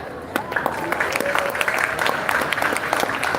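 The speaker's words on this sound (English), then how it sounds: "A big round of applause again for my friend" Crowd at a Little Saigon 50th-anniversary community celebration in California applauds warmly, continuous clapping with occasional cheers and voices mixed in throughout.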